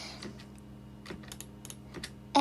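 Keys on a computer keyboard are pressed during AutoCAD work, giving a few soft, scattered clicks at a fairly quiet level with no speech, ending in one louder tap.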